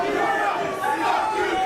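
A wrestling crowd roars and shouts continuously, a loud dense mass of voices with yelled chants rising above the din.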